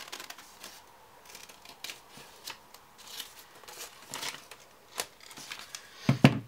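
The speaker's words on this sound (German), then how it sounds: "Könnt ihr auch mit der Schere machen." Scissors snipping through a paper nose pattern for a hand puppet, a series of quiet, irregular crisp cuts with soft rustling, ending in a louder closer snip-and-handling burst.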